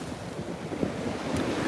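Steady wind and surf on an exposed seaside shore, a constant broadband rush with low rolling wave swells, buffeting the microphone throughout, no voices.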